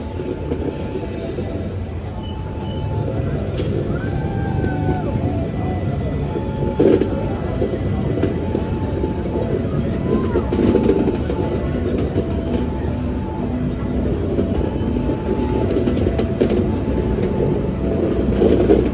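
The Malabar passenger train from Malang to Bandung rumbles past a level crossing, a loud sustained roar with rail clatter and squeals, plus faint tones and crossing noise throughout.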